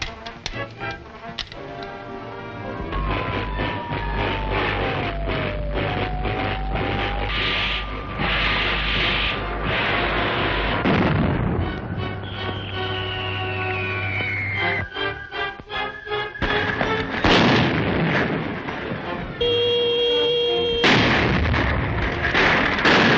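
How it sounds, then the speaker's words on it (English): Wartime bombing explosions from a 1936 adventure serial set in Atlantis: a loud, sustained barrage of rumbling booms and rapid crackling impacts runs without a break, layered with a whistling tone and rattling debris, and no voices are heard. "Bombing the temple."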